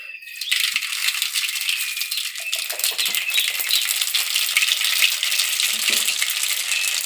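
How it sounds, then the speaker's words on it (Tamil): Dense, steady crackling and popping of mustard seeds spattering in hot oil, close and fairly loud, continuing throughout without a break. "இப்போ எண்ணெய் நல்லா காஞ்சிருச்சு ஒரு ஸ்பூன் கடுகு போட்டுக்கோங்க"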